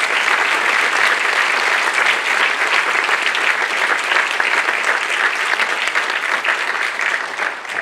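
Loud, sustained audience applause fills a dance competition results ceremony, a dense wash of clapping hands that continues evenly throughout without speech.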